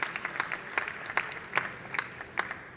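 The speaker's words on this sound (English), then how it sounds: "Let's give him a round of applause." Applause from an audience at a civic event in Dublin, Ireland, a steady broadband patter of clapping with a few sharper claps standing out, moderately loud and with no voices over it.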